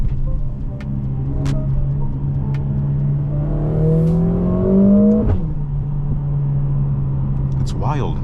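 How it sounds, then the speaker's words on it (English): Mercedes-AMG GLA45 four-cylinder engine in Sport Plus mode, a steady drone with rising revs that ends in a sharp downshift blip around five seconds, then settles back to a low rumble; close and loud. "Back into Sport Plus. Downshift on the little 4-cylinder that's in front of us."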